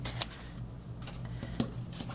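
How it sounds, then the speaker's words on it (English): Scissors snip through a piece of paper in a quiet craft setting, with a few short, crisp cuts spaced irregularly and fairly close to the listener. "I am just using my scissors and eyeballing it."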